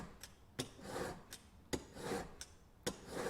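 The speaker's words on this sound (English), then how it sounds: "Turn that over to the 600 grit fine stone." A single-bevel broadhead is stroked across a 600 grit fine sharpening stone, giving quiet, rhythmic rasping passes, each opened by a sharp click as the blade sets down, repeating about every second, close and alone.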